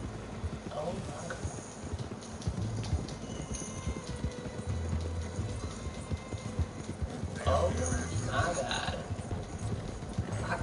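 Hooves clip-clop rapidly over a steady rumble in Red Dead Redemption 2, with a horse whinny and voices talking on top.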